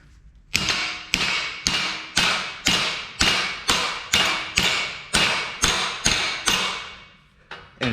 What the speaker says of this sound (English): clamp it down, take your hammer,